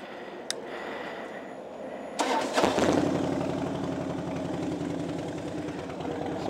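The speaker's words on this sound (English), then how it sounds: "The bike's running excellent." A Harley-Davidson Dyna Glide motorcycle engine starts after a quiet moment and settles into a steady, loud, rumbling idle close by.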